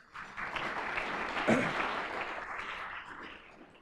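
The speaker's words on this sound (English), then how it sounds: "Give yourselves a round of applause very quickly." Audience applause at a Rotary club lunch meeting, a burst of clapping from a room of people that rises quickly, peaks briefly and then tapers off over a few seconds, with a voice faintly mixed in.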